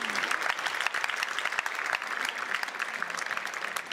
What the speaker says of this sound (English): A applause for Carol Lilienthal.